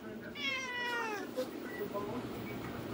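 Several house cats meowing close by, a run of drawn-out, wavering cries near the start, then quieter scattered mews and shuffling over a steady indoor background.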